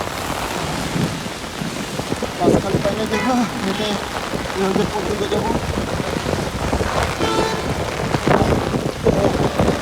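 Heavy rain pours steadily around someone walking along a railway line in a windy downpour, a dense hiss of drops with wind gusts throughout, while someone talks over it.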